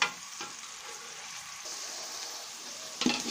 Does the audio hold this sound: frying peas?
yes